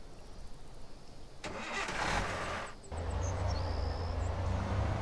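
A car engine in the Thief Simulator video game turns over and catches, then settles into a steady mid-pitched running drone while driving, with a brief electronic chirp above it and no talking.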